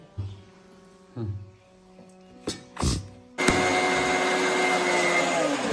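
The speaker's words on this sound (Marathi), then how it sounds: "तर आता हे चांगलं बारीक मिक्सरमध्ये वाटून घ्यायचे." After a few short clicks and bumps, a kitchen mixer grinder starts grinding chopped amla and aloe vera pieces with no added water, a loud steady roar that continues to the end.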